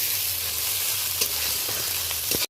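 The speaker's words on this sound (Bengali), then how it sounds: "তো আদা বাটাটা আরও 2-4 সেকেন্ড ধরে ভালো করে আমি নেড়ে চেড়ে নেব।" Ginger paste fries in a hot pan alongside tomato and onion, giving a loud continuous sizzle with a few soft stirring scrapes before it cuts off abruptly; no one speaks.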